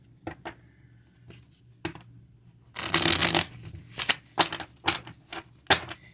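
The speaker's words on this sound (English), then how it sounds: "I'm going to shuffle these cards up real quick here" Tarot cards being shuffled by hand, with scattered soft taps and then bursts of riffling and flicking, close up.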